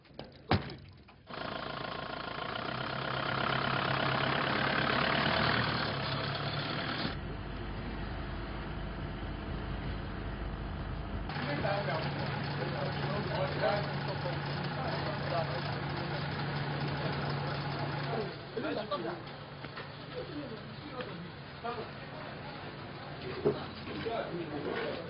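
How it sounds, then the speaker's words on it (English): A police vehicle's engine idles with a low, steady hum for most of the stretch, broken by a few thuds like a door. Indistinct voices sound nearby over the engine. "The police vehicle is ready and waiting to take them into custody."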